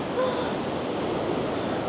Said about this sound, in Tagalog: Kasi ang lalaki ng alon.